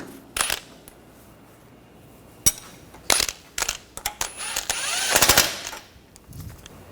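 A ratchet snugs down a lower control arm bolt on a 2013-2019 Ford Escape, making short, sharp metallic clicks in scattered bursts with quiet gaps between them.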